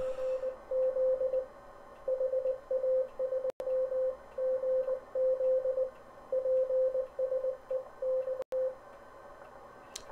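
Morse code from a radio receiver beeps as a steady single-pitched tone in short and long keyed dashes and dots, close and clear over a faint hiss, with two sharp clicks breaking in.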